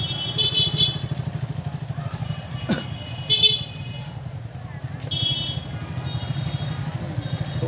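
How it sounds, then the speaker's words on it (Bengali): Motorcycles move through a crowded roadside spot at a rural tourist area, engines droning steadily close by with short horn toots, while people talk over the traffic. "এই দেখেন মোটরসাইকেল"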